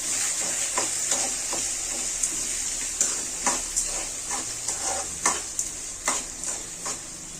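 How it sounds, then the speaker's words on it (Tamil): Onions and curry leaves sauté in hot oil, a steady bright sizzle with repeated scraping stirs of a spatula in the pan, close and moderately loud, no voices. "இதில் வந்து கருவேப்பிலையும் வெங்காயமும் சேர்த்துக்க போகிறோம் சேர்த்துட்டு நல்லா வதக்கிக்கலாம்"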